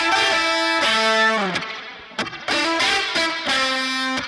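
A bright, high-pitched, pitched-up guitar line, unprocessed, plays clean sustained notes that step down in pitch, with a brief gap in the middle.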